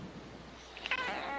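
Roxy, a house cat with a tattoo in her ear, gives a single short meow near the end, clear but soft after a quiet room tone.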